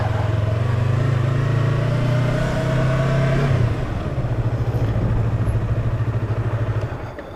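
A Yamaha R25 motorcycle engine runs after a restart, idling loud and close with a steady low hum that drops slightly midway, then continues unevenly.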